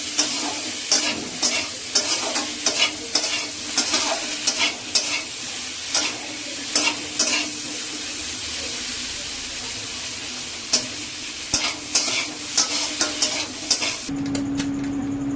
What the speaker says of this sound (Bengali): হালকা একটু নেড়ে দেবো।